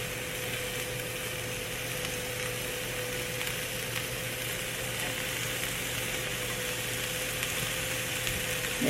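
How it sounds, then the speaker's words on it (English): Bacon strips fry on a warm grill beside onions, mushrooms and asparagus, giving a steady, even crackling sizzle with a constant low hum throughout, no talk. "Cook that bacon up."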